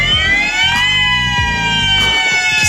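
A loud warning siren wails alone, its rising and falling tones sweeping in a steady cycle, close and continuous with a faint low rumble beneath.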